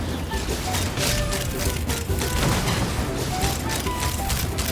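Video game gunfire in Genshin Impact, a dense continuous volley of rapid shots and mechanical clatter throughout, fairly loud and steady.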